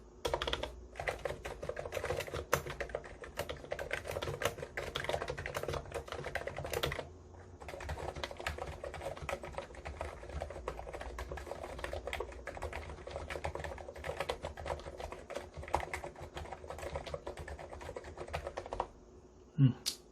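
Continuous typing on a Hansung GK893B mechanical keyboard, a dense run of close, crisp key clacks with a brief pause near seven seconds and a louder knock at the end, no talking.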